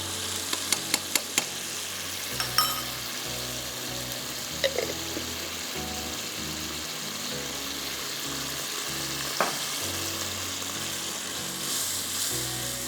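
Ginger garlic paste fries in a chicken karahi, a loud continuous sizzle with a few sharp clinks of a utensil against the pan early on and now and then, no voices.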